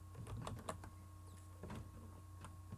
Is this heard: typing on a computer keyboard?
yes